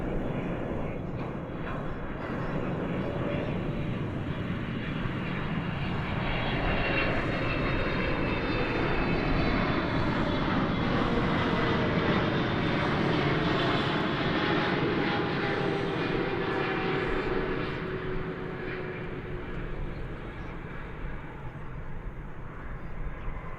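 A fixed-wing airliner on the runway at DFW Airport, cleared for takeoff, roars loudly and steadily with a broad engine rumble and rising whine that hold for the whole stretch before easing slightly.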